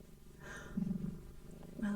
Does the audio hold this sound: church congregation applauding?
no